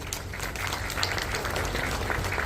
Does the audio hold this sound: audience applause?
yes